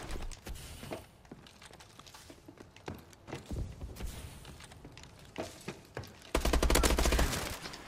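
Rapid gunfire from the Bow 27 in the video game Call of Duty: Advanced Warfare during a ranked search-and-destroy match, heard as quiet, scattered sharp bursts and footstep-like taps that end in one loud, dense volley.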